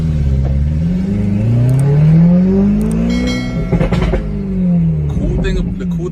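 Engine of a 2020 Ferrari Pista heard from inside, loud and near, its pitch rising and falling through revs with a brief rougher burst mid-way, with some talk over it.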